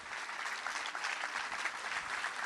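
A crowd applauds at a Cannes 2021 festival event with Jodie Foster, a dense, even rush of clapping held at a steady moderate level throughout.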